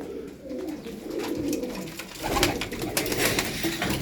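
Pigeons coo in a loft or coop, a low continuous murmur of several birds with brief louder bursts and rustling, fairly close, with no talk over it.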